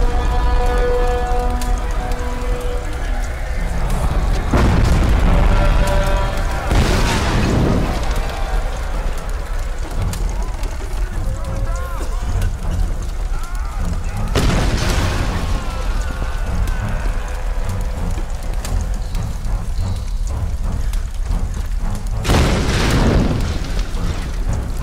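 Loud booming explosions burst in Tomb Raider Definitive Edition over a constant rain-like rumble, with several big blasts spread across the stretch and game music faintly underneath.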